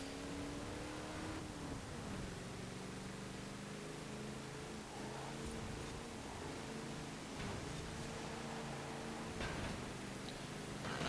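A heavy car's engine roars steadily during a Forza Horizon 4 seasonal championship race, its pitch rising and falling through gear changes over a constant wash of road and wind noise.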